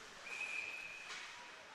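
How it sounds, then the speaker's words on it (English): A referee's whistle sounds for offside in a college ice hockey game between Central Michigan and Ferris State: one sustained shrill blast of about a second over arena crowd noise. "And now Ferris State's going to be whistled down offside"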